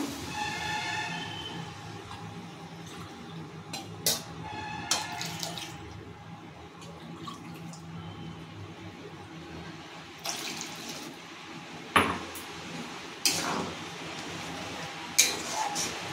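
Water pours into a cooking pot for shrimp khichuri, a soft steady trickle running under light kitchen clatter, with a few sharp knocks of utensils scattered throughout.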